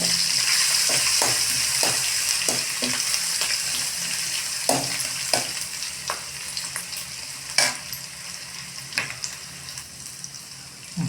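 Garlic and ginger paste frying in a pan for paneer Hyderabadi, a constant close sizzle broken by repeated sharp scrapes and clacks of a spoon stirring the paste.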